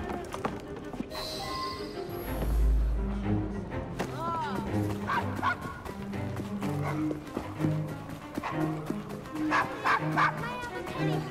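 Dog barking in Assassin's Creed Syndicate, a large bulldog-type pup in a Victorian London setting, several short woofs scattered among game music and ambient street noise, with talk throughout.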